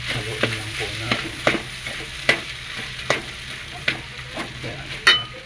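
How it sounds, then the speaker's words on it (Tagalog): Sautéed corn with garlic being stirred in a pan, a continuous sizzle broken by regular scraping and clinking strokes of a utensil roughly every second, close and clear. "Haluin lang po natin."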